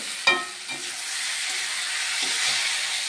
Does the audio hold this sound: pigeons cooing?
no